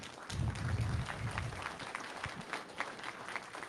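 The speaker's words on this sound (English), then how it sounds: "People clapped." A small debate audience claps politely after an opening speech, a brief patter of hands that is strongest at first and then thins into scattered claps.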